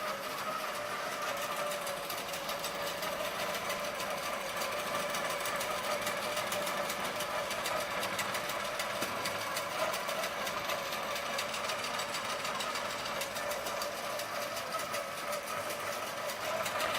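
A Butler Robotics longarm quilting machine stitches steadily with a fast, even mechanical whir and rapid needle chatter, quiet and continuous with no voices.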